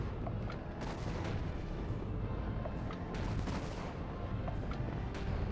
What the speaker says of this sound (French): Faut que je tue les canons.